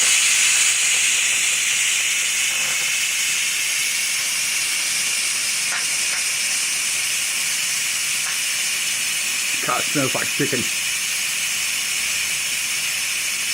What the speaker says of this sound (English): hit the release button up here.